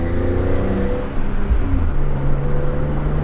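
A 2003 BMW E46 M3 CSL engine hums at close range, its tone dipping and then rising again as it shifts gear, a steady mechanical drone with no voices.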